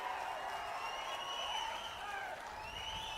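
A large crowd at a political rally with the chief minister claps in a steady, continuous wash, heard from a distance and fairly faint, with a raised voice ringing over it.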